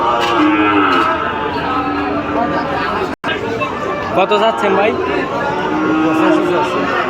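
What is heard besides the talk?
calves and cattle at a livestock market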